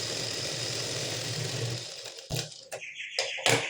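A sewing machine stitches a double seam on a plain blouse neckline, its motor whirring steadily up close, then stopping, followed by a few sharp clicks and knocks of the machine.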